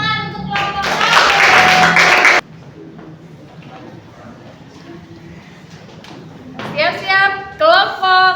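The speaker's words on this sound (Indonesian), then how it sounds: "Tepuk tangan untuk kelompok 1" A classroom group claps for the first group of students, a burst of dense, loud applause lasting about two seconds that stops abruptly, followed by quieter room noise and children's voices.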